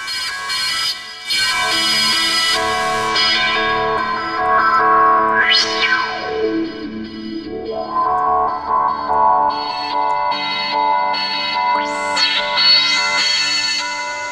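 Arturia MiniFreak synthesizer patches run through Noise Box distortion play a buzzy, gritty sustained tone with harmonic-rich drones and two sweeping pitch glides, one rising and falling, loud and alone throughout.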